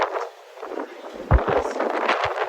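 Gusty wind at Manly Beach, Sydney, buffeting the microphone in rough rumbling bursts, loud and close, with a sharp thump partway through.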